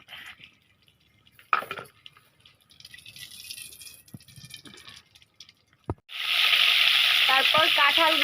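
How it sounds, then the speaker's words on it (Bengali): Pieces of young jackfruit hit hot salted oil in a wok after some quiet clatter, bursting into a loud, continuous sizzle with crackling pops. "কাঁঠালগুলো ভাজা শুরু করব"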